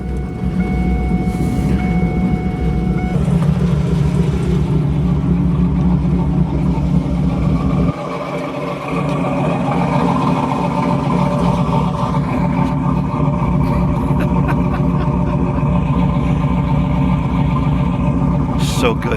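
The SS Camaro's loud engine rumbles steadily throughout, a deep continuous drone with a brief dip partway through.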